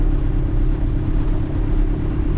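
A Land Rover Defender works over a rough trail, its engine a steady, close, rumbling drone with broad low-end road and drivetrain noise throughout, no voices.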